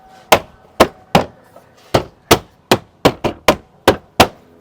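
Trim cover clips on a Tesla Model 3 are snapped back into place after a 12v battery replacement, giving about a dozen sharp, close pops at a fairly even rhythm, with no one talking.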